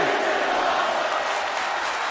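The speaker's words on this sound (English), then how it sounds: "The crowd on this is awesome" A wrestling crowd roars in a steady, dense wash of cheering and chanting at a live match, loud and continuous throughout with no distinct voices standing out.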